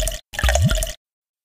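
Water poured from a series of containers into a bathtub in the Peg + Cat Bubble Bath game: a short splash, a pause, then a longer gurgling pour, close and clear with no talk.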